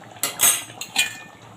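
A metal lid lifted off a cooking pot of pumpkin stem, potato and eggplant curry, giving a few clattering metallic clinks and scrapes in two short bursts, close and fairly clear with no talk.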